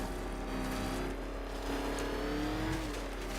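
Batmobile-style car in Arkham Knight runs with a steady, droning engine hum that rises gently in pitch as it revs, loud and continuous throughout with no talk.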